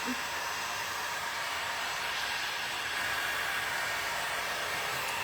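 A hair dryer blows steadily to dry a freshly painted tray. Its loud, even rushing hiss stays close and continuous throughout, with no speech.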